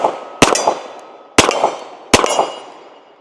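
A Kimber Rampart pistol fitted with a compensator fires three sharp, loud shots at an even spacing, each crack followed by a ringing echo that fades before the next.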